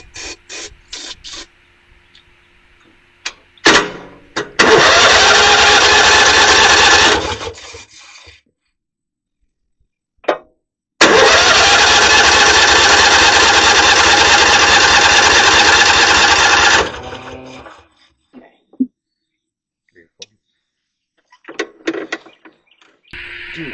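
A cheap used side-by-side UTV engine, fed a shot of brake cleaner, fires up and runs loudly for a few seconds, dies, then starts again and runs steadily for about six more seconds before cutting out, with scattered clunks between runs.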